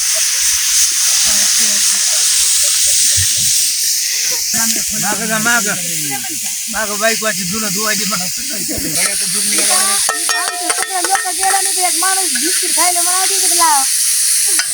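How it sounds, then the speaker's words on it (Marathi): Tomatoes frying on a hot tava griddle in a farm home kitchen in the morning, a loud, constant sizzle and hiss running throughout, with a voice and other voices talking over it in the middle and later part. "ही आमची मदर सकाळी सकाळी टमाटे टाकले तव्यावर"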